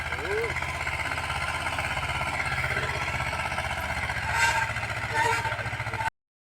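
A tractor engine chugs steadily and continuously nearby, a low rhythmic idle-like rumble, with a voice talking over it before it cuts off abruptly.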